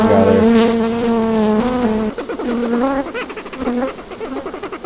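Loud, dense buzzing of many bees close up, the pitch wavering and rising in agitated surges throughout.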